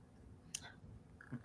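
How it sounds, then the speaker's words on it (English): Faint, sharp clacks from a computer keyboard, two separate keystrokes about a second apart, quiet against a low room hum with no talking. "We hear every clack on that keyboard"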